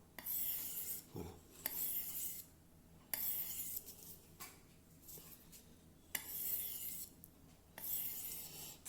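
A Racer M knife blade is drawn across a Japanese whetstone in repeated long rasping strokes, each steady grinding pass separated by a brief pause, close and fairly loud with no talking.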